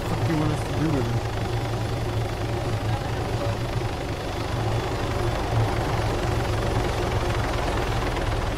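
An Arma 3 helicopter drones steadily with a low rotor and engine rumble throughout, while people talk over it.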